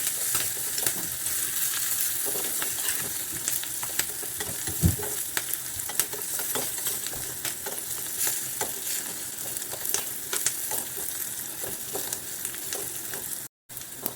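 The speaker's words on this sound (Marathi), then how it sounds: "चांगलं हलवून घ्यायचं फोडणी" Spiced tempering of coriander powder, cumin and chopped green chillies sizzles steadily in a hot pan, with frequent scraping stir strokes throughout, close and continuous, with no talking.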